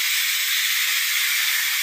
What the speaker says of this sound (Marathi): कुकरची शिटी नेहमी होतेच होते जेव्हा जेव्हा किचनमध्ये येते तेव्हा